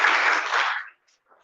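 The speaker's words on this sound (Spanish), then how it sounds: "por favor, un aplauso" An audience applauds after a talk on agriculture and ecosystem conservation, a brief, even patter of clapping that stops abruptly after about a second, leaving faint traces.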